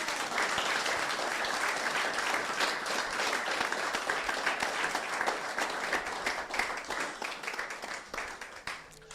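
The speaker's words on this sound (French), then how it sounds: "Applaudissons pour lui." A church congregation gives dense, sustained applause that fills the room, with many hands clapping steadily. The applause fades slightly toward the end.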